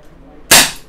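A single sharp, loud shot from a Crosman SNR357 full-metal CO2 dual-ammo revolver, a crisp cracking pop after a moment of quiet room hiss, fading quickly.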